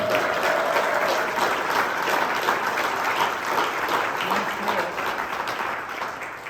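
A crowd at a Waukesha County Democrats political address breaks into sustained applause, dense clapping from many hands that fills the room evenly before slowly tapering off near the end.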